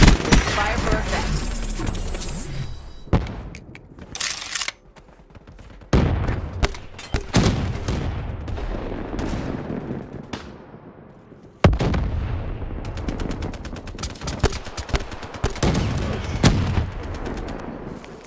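Artillery fire in a video game, heavy booming blasts and crackling gunfire recurring in loud bursts, with short quieter gaps between volleys.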